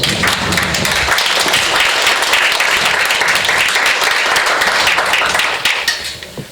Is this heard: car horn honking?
no